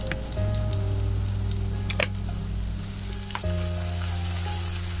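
Onions frying in mustard oil in a pan, a loud, close, continuous sizzle with a few sharper pops and a brief change in tone partway through.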